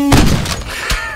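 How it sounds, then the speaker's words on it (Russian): A loud, close gunshot blast from a horror video game fires at once with a fart sound on the same button, followed by a second sharp report about a second later. "здесь пердёшь и выстрел, короче, на одну кнопку"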